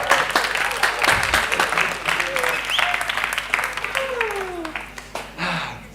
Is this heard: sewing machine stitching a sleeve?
no